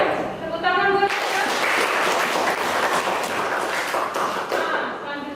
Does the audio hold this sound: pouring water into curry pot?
no